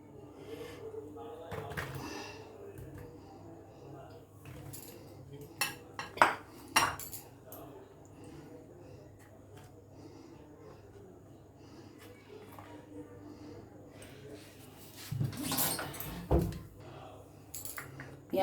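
Boiled chickpeas, peas and potatoes tipped into a bowl for papdi chaat: sporadic close clinks of a spoon against the bowl and soft scraping thuds between quiet stretches, with a voice talking nearby.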